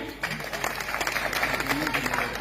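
Applause from an audience at a public gathering in India, a steady wash of clapping of moderate loudness with some background voices mixed in.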